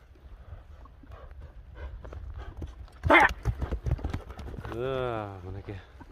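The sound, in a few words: horses running, hoof clip-clop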